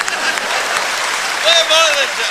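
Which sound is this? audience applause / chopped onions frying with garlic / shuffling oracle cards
audience applause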